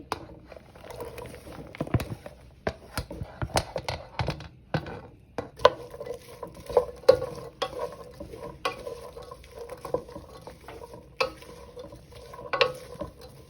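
Chopped onion and celery sizzle and fry in a pan as the base for a creamy potato soup, with steady crackling and repeated stirring clatter close by, no talking.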